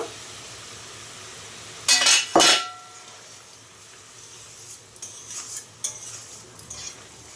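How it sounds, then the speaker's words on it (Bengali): A metal lid goes onto a pot of simmering lentils with a loud clatter and a ringing clang. A quiet stretch follows, then a few light metallic taps and rustles. There is no talking. "এবার আমি একটু ঢাকা দিয়ে দিচ্ছি"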